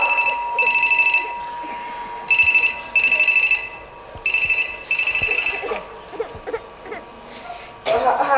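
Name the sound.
telephone ringing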